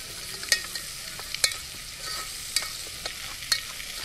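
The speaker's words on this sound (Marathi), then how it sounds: "आत्ता आपण आहे ना मटन रेसिपीमध्ये टोमॅटो ॲड करतोय" Chopped tomatoes stirred into mutton frying in a pan over a traditional wood-fired clay stove, a faint steady sizzle with sharp scraping clicks of a spoon every second or so.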